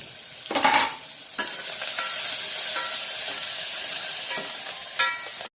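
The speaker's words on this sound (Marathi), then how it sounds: "कांदा छान असा लालसर परतवून घेऊया।" Finely chopped onion sautéing with grated coconut in a pan, a loud continuous sizzle broken by a few spoon strokes and scrapes, close up.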